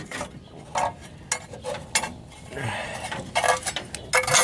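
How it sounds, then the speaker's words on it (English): Close, irregular metallic clinks and short ratcheting bursts come from a wrench working starter motor bolts loose on an RV engine, with brief scrapes and a quiet pause in between and no talking. "And then I'm just gonna get the starter out."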